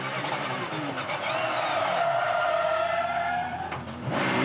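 Porsche Cup race car heard from on board at speed, engine and road roar loud and continuous as the car hops over the turn 2 curb, a rising tonal whine and brief jolts near the end.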